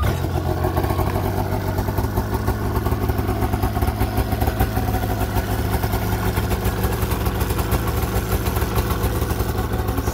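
A 2001 Arctic Cat ZL 600 EFI two-stroke snowmobile engine runs steadily up close, a loud, continuous buzzing idle with a clattery edge that holds the same pitch throughout.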